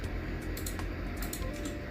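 Typing on a computer keyboard while entering a value in AutoCAD drafting software, a few quick soft key taps over a steady low background hum, close and fairly quiet with no talking.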